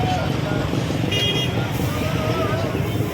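Congested road traffic near the Malabon fish port rumbles steadily with engines idling, and a short car horn toot sounds midway. People talk over the traffic noise.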